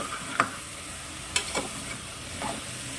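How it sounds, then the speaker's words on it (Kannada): Chopped bottle gourd being stirred in a hot pan for a sabji, with a few sharp spoon scrapes against the metal over a soft, continuous sizzle. "ಸೋರೆಕಾಯಿನ ಹಾಕೊಳ್ತಾ ಇದ್ದೀನಿ ಈ ತರ ಹಾಕೊಂಡ ನಂತರ ಒಂದ್ಸರಿ ಚೆನ್ನಾಗಿ ಮಿಕ್ಸ್ ಮಾಡ್ಕೊಳ್ಳೋಣ"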